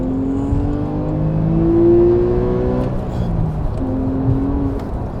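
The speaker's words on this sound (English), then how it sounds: "It does still sound like a proper 911." Engine of a Porsche 911 Carrera 2 (991.1) on winter tyres, a steady droning flat-six hum heard from inside while driving, with pitch gently rising and falling.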